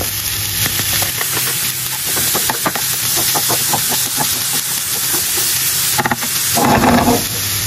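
Shallot and bell pepper sweat in vegetable oil or butter in a pan, giving a continuous close sizzle and hiss with scattered crackles and a louder burst of spattering near the end.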